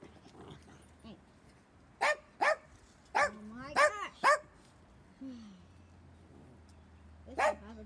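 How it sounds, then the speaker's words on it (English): A dog barks in several sharp bursts, a couple close together, then a run of louder barks and a final one after a pause, with whimpering tones in between and a person talking at times. "And stop with the barking."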